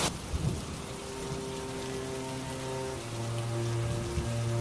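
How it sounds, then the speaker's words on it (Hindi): Heavy downpour and rolling thunder in a Hindi cartoon storm scene, a loud steady roar of rain with deep rumbles building underneath, no voices. "तुरंत आसमान में बादल घिर आते हैं और तेज मूसलाधार बारिश होने लगती है"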